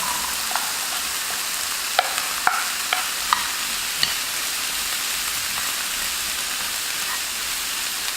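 Onions and potatoes fry in a pan with a steady broadband sizzle while a utensil stirs them, giving occasional sharp scraping clicks; close and continuous, no talking.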